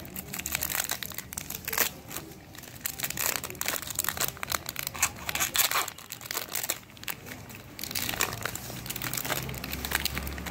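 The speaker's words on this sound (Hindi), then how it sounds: "तो इसकी हम पन्नी निकाल लेते हैं।" Plastic wrap being peeled and crinkled off a crepe jasmine air layering, close, irregular crackling and rustling bursts throughout with no talking.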